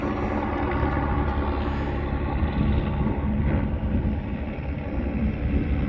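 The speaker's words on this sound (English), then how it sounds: "And quite many helicopters flying today, as you see. Lots of helicopter noise." A continuous low engine drone and rotor rumble of helicopters overhead on a hiking trail in Iceland, steady and fairly loud, with some wind buffeting the microphone.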